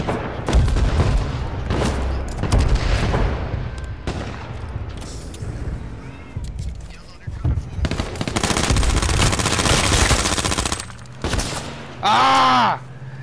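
Gunfire and sniper shots ring out in the survival shooter H1Z1 around the cabins: loud bursts and rapid volleys, some sharp single cracks, and a ringing tonal burst near the end. Voices appear intermittently.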